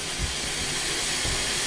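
A coal-fired steam train gives off a steady, loud hiss of steam that fills the whole clip, with faint low rumbles from the locomotive underneath and no talking.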